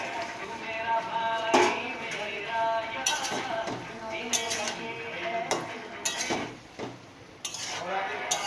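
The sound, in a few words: adding fried lentil fritters to a pot and stirring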